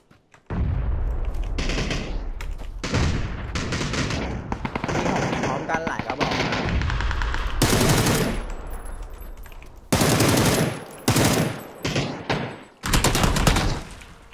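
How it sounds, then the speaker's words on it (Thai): Heavy gunfire from several players in the video game PUBG: dense, loud automatic bursts and rapid shots with short pauses, building to sharp, intense volleys near the end. "ใครยิงกูวะ"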